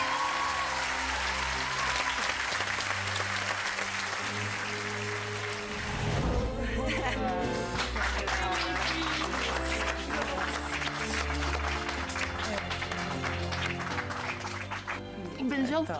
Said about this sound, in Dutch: Mag ik wel echt om een enorm hard applaus vragen voor Lucia